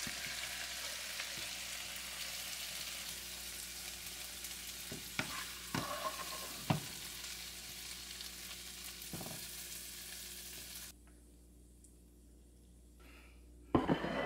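Pork belly fries in a pan for Chinese spicy pork with a dense, steady sizzle and occasional spatula clicks and scrapes, then the frying noise drops away abruptly before a final clatter; no one speaks.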